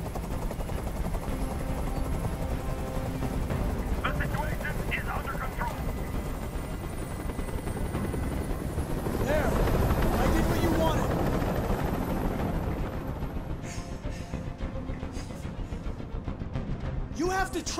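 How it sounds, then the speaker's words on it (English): Helicopter in the video game Detroit: Become Human whirs with a continuous rotor thrum, loud and steady, swelling briefly midway, under voices. "Tell that helicopter to get out of here."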